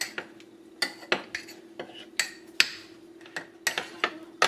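Spoon clinking against a bowl while mixing melted chocolate, irregular sharp taps and scrapes close up, with no talk.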